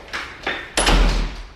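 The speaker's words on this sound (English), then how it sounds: "So I'm going to shut the door real quick" A door pushed shut in a home hallway: two soft knocks, then a firm closing thud, close and fairly loud.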